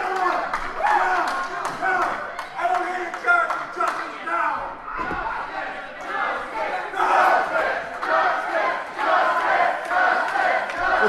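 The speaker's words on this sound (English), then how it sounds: "This crowd firing up to get behind Justice here." A wrestling crowd at an RCW match roars and chants continuously, loud and close, with cheers swelling in waves as fans rally behind a wrestler, while a commentator talks over the noise.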